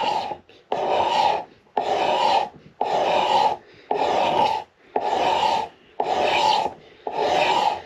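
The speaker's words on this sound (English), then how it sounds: "What we're going to do, scrape into here, take a lot of the shoulder off here." Hand scraper shaving wood from the neck of a 1937 Martin D18 guitar in eight steady rasping strokes, each about half a second long with brief pauses between, close and loud with no talking.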